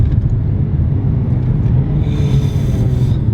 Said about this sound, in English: listen to how fast the gear shifts are